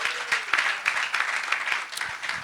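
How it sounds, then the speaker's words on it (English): Steady applause from a small crowd at an evening event, scattered claps pattering evenly for a couple of seconds at moderate volume. "Can you have a round of applause?"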